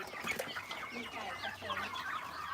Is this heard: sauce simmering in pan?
no